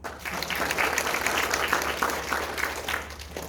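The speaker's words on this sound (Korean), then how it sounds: "그리고 아까 자동차라고 말씀하신 분께도 박수 한번 주십시오." Audience applause fills a lecture hall at a special talk for youths at a Busan juvenile detention center, a steady clapping wash of many hands held throughout at moderate level.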